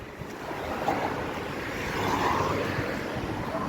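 Ocean surf rolls in steadily at Dwarka beach, a continuous broad wash of breaking waves heard close and fairly loud, swelling slightly midway, with no voices.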